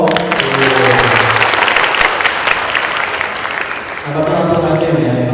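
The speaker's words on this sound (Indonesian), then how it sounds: "Tepuk tangan dong." A large audience at a university meet-and-greet event applauds loudly and continuously, with a crowd murmur and some voices or music rising as the clapping thins toward the end.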